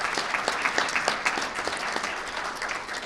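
An audience at a public safety event applauds state legislators, a sustained burst of dense clapping that stays steady and fairly loud throughout.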